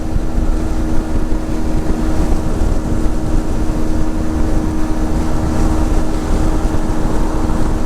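Yamaha XSR 125 motorcycle cruising in fifth gear on a wet road in rain, a steady loud engine drone mixed with heavy wind and road roar throughout, no talking.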